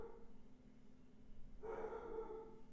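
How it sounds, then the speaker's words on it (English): A dog barks outside, faint and distant, a short burst of barks starting about halfway through after quiet room tone. "If you hear my dog barking outside"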